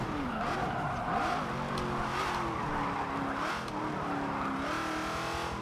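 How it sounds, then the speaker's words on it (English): A vintage sport GT race car driven in Forza Motorsport 7, its engine note steady and near, rising and falling in pitch through gear changes with a faint hiss of tires underneath and no talking. "Now I can just focus on driving the automobile."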